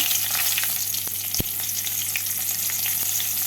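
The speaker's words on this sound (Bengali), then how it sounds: "তেলটাকে ভালো করে গরম করে নিয়েছি এবার এর মধ্যে দেব ফোড়ন একটা কাঁচা লঙ্কা" Green chilli and nigella seeds crackle in hot oil as a tempering, a loud, dense, continuous sizzle with a few sharp pops and a steady low hum, close and with no talk.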